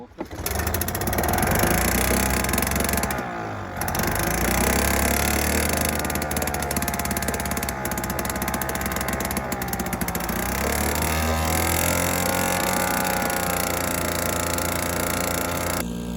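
A noisy old Seagull outboard motor on a canal boat drones continuously, a rough, rattling engine sound that barely changes, with a brief dip early on.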